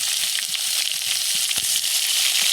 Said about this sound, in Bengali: এরপরে ভুনাটা নামিয়ে নিয়ে আমি কড়াইতে তেল দিয়ে আবার পেঁয়াজ ভেজে নিয়েছি, মশলা কষিয়ে নেব।